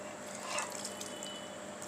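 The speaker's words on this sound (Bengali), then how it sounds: "এখন আমি সামান্য পানি দিয়ে দিব" A little water is poured into a mix of fish and potato curry in a pot, giving a brief, soft trickle and splash close by with no talking.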